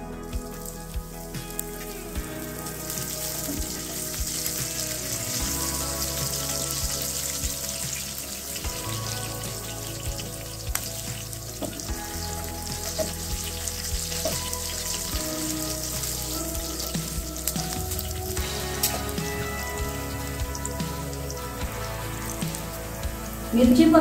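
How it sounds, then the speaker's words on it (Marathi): Chopped green chilies fry in a pan for a fasting-day potato bhaji, a steady broadband sizzle running throughout with low tonal music playing underneath and no talk. "त्यामध्ये मिरची कापलेली टाकणार आहे।"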